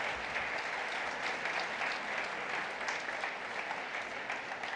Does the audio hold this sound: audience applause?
yes